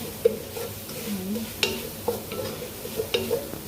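Onion for saluna shrimp browns in a pan before any oil is added, heard as close scraping stirring strokes with occasional sharp utensil knocks against the pan and a light sizzle underneath.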